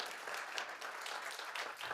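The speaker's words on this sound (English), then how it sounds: "So a round of applause for her," Audience applause at a business event, steady and moderately loud clapping throughout the short stretch with no pause or break.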